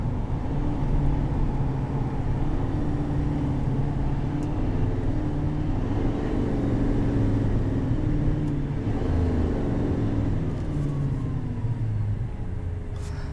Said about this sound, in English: And then we can test the exhaust brake.